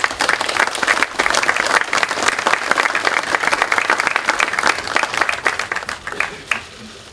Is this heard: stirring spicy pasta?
no